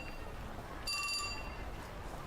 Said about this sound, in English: Just then, Minorukawa's phone chimed.